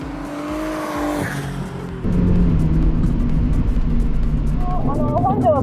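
A Mazda Roadster NB rental race car with hardened, low-grip tyres runs on a circuit. A higher engine whine gives way to a loud, sustained engine roar up close, and a voice speaks near the end.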